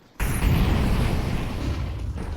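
A flashbang grenade goes off in Counter-Strike 2 on the Anubis map: one sudden loud burst, then a dense rushing noise that fades slowly for about two seconds.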